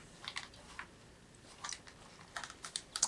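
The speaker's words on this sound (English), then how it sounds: "here we have a Logitech keyboard" Light clicking keystrokes on a somewhat dirty Logitech computer keyboard come in short irregular bursts, faint and close, with quiet pauses between.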